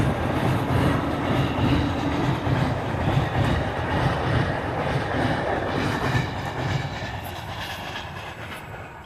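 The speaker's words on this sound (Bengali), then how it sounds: "এই ট্রেন যাচ্ছে।" A train runs past a level crossing beside the railway line at Deulti, with loud, steady rumbling and wheel clatter throughout that eases slightly toward the end.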